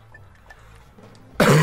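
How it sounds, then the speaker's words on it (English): A single loud cough into a cupped hand bursts out abruptly near the end, after a stretch of quiet low background hum from a Ratchet and Clank 2 game session. "I coughed into my hand"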